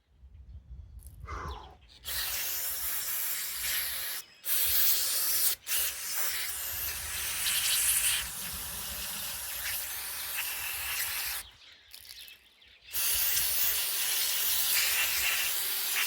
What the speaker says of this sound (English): probably going to take a whole can of carb cleaner to get this thing cleaned out